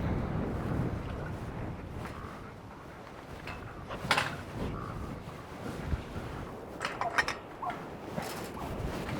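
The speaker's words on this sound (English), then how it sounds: "Well, we got a windy day." Steady rumbling wind from the tail end of a hurricane buffeting outdoors, with gusts and occasional knocks and clatters, continuous throughout with no talking.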